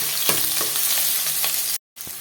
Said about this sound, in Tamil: இப்போ வந்து கொஞ்சம் இஞ்சி பூண்டு பேஸ்ட்டு போட்டுக்கலாம் போட்டுட்டு நல்லா வதக்கலாம்